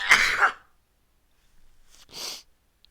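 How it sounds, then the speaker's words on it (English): A man lets out a sharp sneeze, followed after a short silence by a sniff and a second breathy burst, loud and close to the microphone. "I'm gonna sneeze. Hold up."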